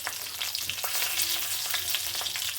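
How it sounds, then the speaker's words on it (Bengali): Cumin seeds, whole dried red chilies and bay leaves crackling in hot oil for chana dal tempering, a dense close sizzle with small popping bursts and faint stirring, no voices. "তেজপাতা ফোড়ন দিলাম।"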